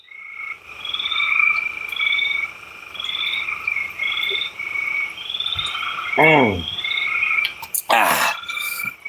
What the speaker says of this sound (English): You hear all the frogs, man?